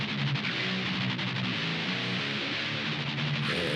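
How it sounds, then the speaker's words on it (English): Heavily distorted modern metal guitar tones from a mix breakdown, playing a dense, continuous chugging riff at steady loudness with no talking. "Guitars sound like this."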